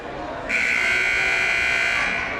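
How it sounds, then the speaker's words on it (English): A loud, sustained electronic buzzer blares at a high school basketball game during a timeout, starting abruptly after half a second and holding steady for nearly two seconds in a gym. "Buzzer signals that both teams have 10 seconds left before timeout's over and the game resumes."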